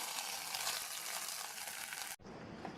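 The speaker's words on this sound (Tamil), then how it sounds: "தாளிப்பை இந்த கீரையில் சேர்த்துட்டு" Hot tempering poured into a toor dal with drumstick leaves gives a loud, steady, close sizzle that cuts out for a moment near the end and then carries on.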